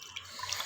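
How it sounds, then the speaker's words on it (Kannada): Water pours steadily into a mixer grinder jar while tomato rasam is being made in a home kitchen, a brief close splash and trickle with no talk. "ಮಿಕ್ಸಿ ಜಾರಿಗೆ ಸ್ವಲ್ಪ ನೀರು ಹಾಕ್ಕೊಂಡು"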